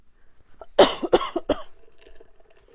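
Three harsh coughs in quick succession, close by, followed by quiet breathing.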